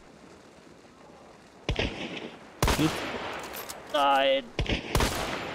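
Loud, sharp sniper rifle shots ring out in the multiplayer shooter Hunt: Showdown, several spaced bursts with a person shouting in between.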